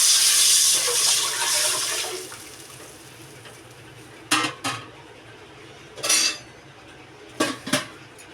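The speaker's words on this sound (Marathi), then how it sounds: "मोठा अर्धा टोप आपण पाणी घेतलं आहे, अर्ध्यापेक्षा जास्त पाणी ॲड केलं आहे" Water pours into a large half-full cooking pot over hot oil while making chicken dum biryani, a steady rushing pour that fades out, then a few scattered metallic clinks and knocks close by.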